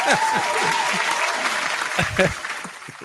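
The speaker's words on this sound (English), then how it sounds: "Round of applause for being single" Short applause during a mixshow podcast, a brief clapping burst with talking voices mixed in and thumps scattered through it.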